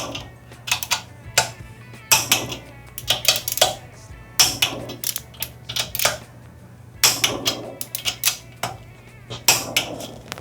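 Sharp metallic clicks in irregular bursts from a torque wrench tightening bolts on a 1957 Chevy, close and crisp over a faint steady hum.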